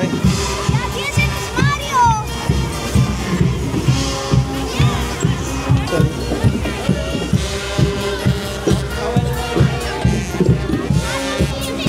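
Crowd of children during a Fasnacht festival parade in Basel, Switzerland, their chatter and shouts layered over loud parade music with rhythmic drum beats, busy and close.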